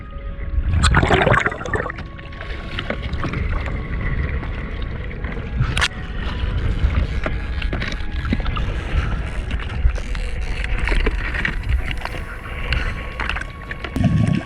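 Strong wind blows across a boat at sea, a steady broadband roar with gusts buffeting the microphone throughout, and no voices.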